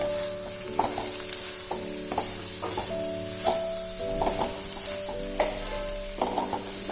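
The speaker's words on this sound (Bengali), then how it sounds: "গরম মশলাটা ভালো করে মিশিয়ে নেবো আমি বাঁধাকপির সাথে।" Spoon scraping and stirring in a pan as homemade garam masala is worked into cabbage, a steady series of light knocks and scrapes against a faint sizzling background, with no talking.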